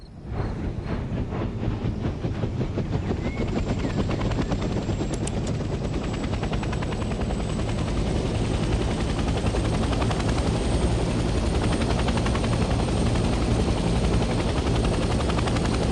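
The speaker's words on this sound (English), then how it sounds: "The helicopter will now take off automatically and remain in a hover state." A military transport helicopter in a Vietnam War video game lifts off: the rotor thumps rapidly and loudly as the engine roars, building and then holding steady in a hover for a long stretch with no talking.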